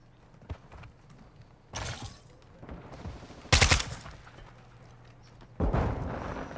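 Rapid automatic fire from a Kastov 545 assault rifle in Call of Duty: Modern Warfare II, arriving as a few short, loud bursts separated by game noise and an explosion-like blast.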